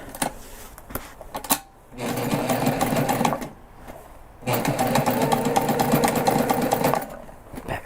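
A sewing machine back-stitches along the sides of a backpack, running in two loud, sustained bursts of rapid mechanical stitching, with brief clicks and handling noise before and between them.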